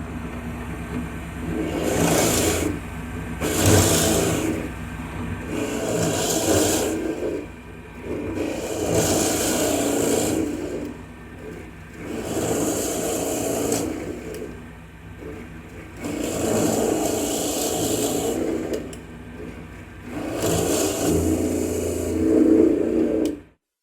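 Central Machinery 8-inch 2.4 amp benchtop drill press driving a 5/8 inch Forstner bit through a scrap wood board, a steady motor whine swelling into repeated bursts of cutting noise, several passes in a row with brief dips between them.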